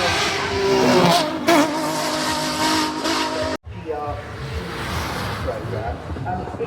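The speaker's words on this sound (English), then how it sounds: "It is the most powerful Lamborghini naturally aspirated V12 car the Italian firm has ever made" A Lamborghini with a 6.5-litre naturally aspirated V12 races at the Goodwood Festival of Speed, giving loud engine roars and revving sweeps. A sharp cut interrupts the sound midway, and a voice speaks over parts of it.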